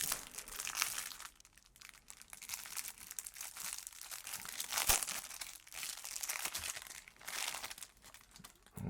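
Close, continuous crinkling and tearing of stiff plastic card-game packaging, with occasional sharp scissor snips and crunches.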